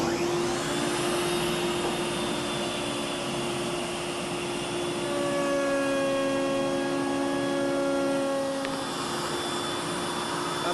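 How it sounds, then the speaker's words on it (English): A woodshop dust collector runs loud and steady, a whooshing roar with whining tones that rise and hold, and a machine hum beneath, with no talking. "Let's get the dust collector on, and away we go."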